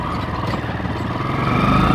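A motorcycle passes on a road during a ride toward Halesi Mahadev in Nepal. A steady engine roar over road noise swells louder toward the end.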